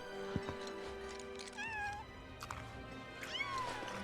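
A cat named Fluffy in Final Fantasy VII Rebirth gives several plaintive meows at intervals, close and clear, over a quiet ambient game background.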